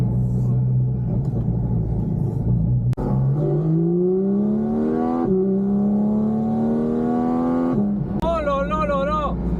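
A Porsche GT4 RS with a naturally aspirated engine revs up through rising gears from inside the car, loud and close, with each pull climbing in pitch before a shift and a final high wailing rev.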